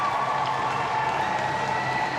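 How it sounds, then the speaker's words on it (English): Home fans at an ice hockey rink cheer and applaud as Hong Kong, China's women's team enters, a steady, loud crowd roar with no breaks. "the local fans cheering on for their local team"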